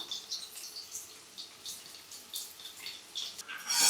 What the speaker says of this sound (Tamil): இதில் வந்து நம்ம இந்த புளி தண்ணி, தக்காளி கரைச்ச தண்ணி ரெண்டையுமே விட்டுருவோம்